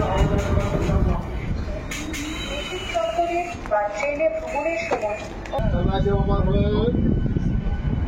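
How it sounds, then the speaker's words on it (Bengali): A local train pulling out of Phuleshwar station on the Howrah–Kharagpur line, a steady low rumble and rattle of the carriages with squealing tones, heard from inside alongside voices and the crowd noise of the coach. "ছেড়ে দিল আমাদের ট্রেন ফুলেশ্বর স্টেশন থেকে"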